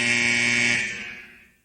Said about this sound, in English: Don't let the buzzer fool you.